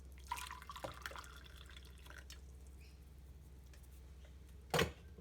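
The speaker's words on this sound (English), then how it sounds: "Then add our boiling water." Boiling water poured into a cup in a home kitchen, a quiet, brief splashing pour followed by a few soft drips and one louder splash near the end, with no voices.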